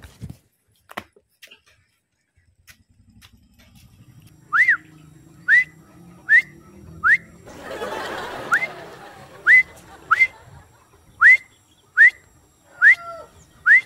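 A person whistles a series of short rising two-note whistles repeated about every second, loud and close, with a burst of rustling noise partway through.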